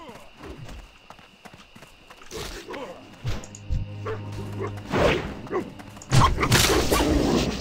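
Dogs barking and yelping in World of Warcraft during a coyote-hunting quest, short yips scattered among combat thuds and game effects, with someone talking over parts of it.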